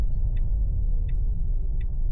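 A Tesla Model S Plaid driving off in a parking lot, a low steady rolling rumble of tires and motion at moderate volume, with faint, evenly spaced high chirps from nearby.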